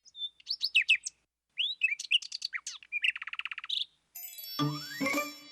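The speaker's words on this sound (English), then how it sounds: "That's a bird!" Chirping birdsong comes in quick, varied bursts of twittering and a rapid trill, then gives way to a bright chiming jingle at the end.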